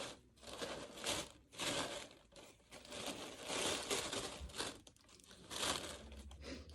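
Tissue paper crumpled and crinkled by hand while being adjusted on a balloon floral arrangement, with close, continuous rustling in bursts and brief pauses.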